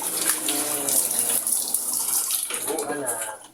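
Water running from a tap during bathing, a steady close gush and splash that continues throughout, with faint voices underneath.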